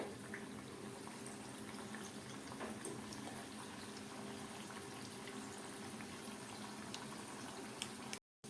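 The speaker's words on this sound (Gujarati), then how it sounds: "હવે આપણે એક પછી એક પેટીસ ગરમ તેલમાં ઉમેરતા જઈએ અને તળતા જઈએ" Green pea patties fry one after another in hot oil over a medium-low flame, giving a faint, continuous bubbling crackle with a few small pops before it cuts off abruptly.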